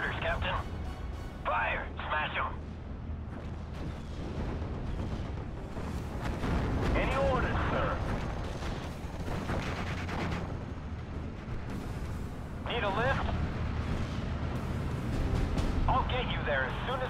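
Artillery and gunfire in the World War II strategy game Steel Division: Normandy 44, a continuous rumble of booms and shots that runs under radio-style voice lines and shouted commands throughout.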